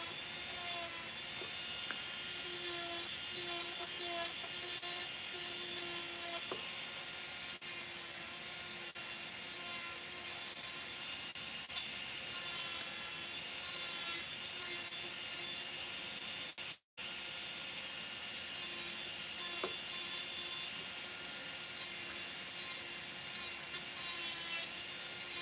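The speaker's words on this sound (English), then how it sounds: "This is my favorite attachment to the drill because it's awesome to clean underneath the nail." An electric nail drill with a cleaning bit works under an acrylic nail during a French fill, a sustained close whirring and grinding with a brief cut-out midway.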